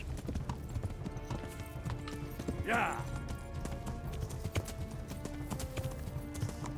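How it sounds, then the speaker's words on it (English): Steady clip-clop of galloping horse hooves runs throughout, with a brief whinny-like cry midway, all under a dense Kingdom Come: Deliverance game soundscape and a faint voice. "Gosh, horse, go faster."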